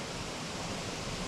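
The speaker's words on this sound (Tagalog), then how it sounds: "Tapos yung tunog ng ilog, sobrang sarap sa tenga." Steady rushing water flows continuously with a dense, even hiss, like a river or stream heard close by, with no voices.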